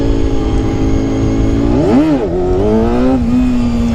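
A classic Honda CBR250RR MC22 four-cylinder 250 motorcycle revs loudly and close during a wheelie attempt, its high-pitched engine climbing sharply, dipping, then settling into a steady rising drone with no talk.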